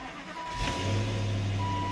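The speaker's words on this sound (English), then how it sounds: "we'll have a decent little cold start of the XC90." A Volvo XC90 with a 4.4-liter Yamaha V8 fires on a cold start, settling into a steady, loud, close idle drone that holds after the initial catch, with no talking.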